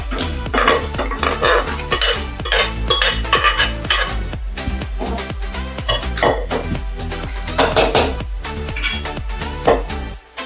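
Mutton pieces tipped into a cooking pot and stirred for a mutton curry, a busy run of metal spoon scrapes and clanks against the pot with soft sizzling beneath, close and continuous.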